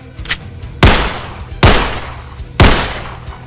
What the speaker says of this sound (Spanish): 3 disparos directo a los ojos